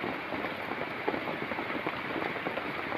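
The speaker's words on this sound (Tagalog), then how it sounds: "Mahintay tayo mga Pinoy, tumigil ang ulan." Steady rain pattering on a tarp shelter, a dense continuous hiss of drops close by with no talking.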